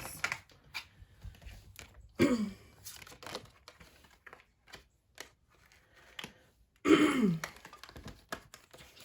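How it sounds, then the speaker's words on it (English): Two short, gruff throat clearings, a few seconds apart, close by, with soft tapping and rustling in the quiet between them. "Excuse me, Taurus, for clearing my throat."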